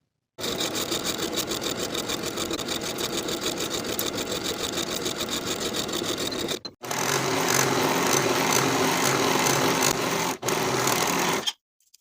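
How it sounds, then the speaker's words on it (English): A sewing machine runs steadily, stitching the princess seams of a spring dress with a Peter Pan collar; one long continuous run breaks off and resumes in two further bursts, loud and close with no talk. "Sew the princess seams on both sides from top to bottom"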